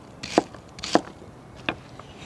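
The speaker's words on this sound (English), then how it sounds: "I'm just gonna do some chunks of onion." A knife chops onion into chunks on a board, giving three or four distinct, close thuds at an uneven pace with quiet gaps between.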